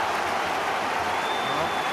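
Football crowd at a League One play-off semi-final between Carlisle and Leeds, applauding in a steady, dense wash of clapping that holds evenly throughout, broad and stadium-distant.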